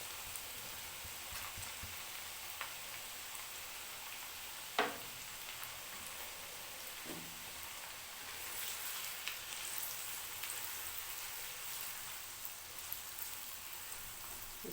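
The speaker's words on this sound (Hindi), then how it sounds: "अब इसी ऑयल में मैं प्याज डालती हूँ।" Chopped onion frying in hot oil for a fish curry, a steady soft sizzle and crackle throughout with a few faint clinks, no talking.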